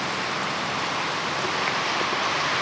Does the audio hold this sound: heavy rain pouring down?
yes